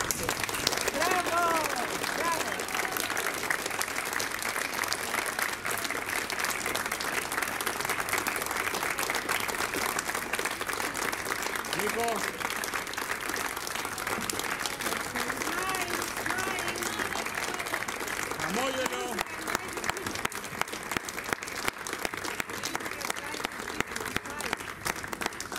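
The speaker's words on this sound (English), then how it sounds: "Big applause." Sustained applause from a gala audience at a piano academy competition, dense and steady clapping throughout, with scattered voices and a faint tonal element mixed in beneath the crowd.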